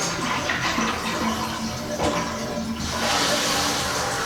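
A toilet flushes with only a small amount of water, a continuous hissing, rushing trickle that surges briefly near the middle and swells again toward the end, close and fairly quiet with no talking.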